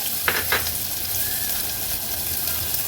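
Onion frying in a spoonful of oil inside a pressure cooker, a steady close sizzle with two brief sharper crackles near the start.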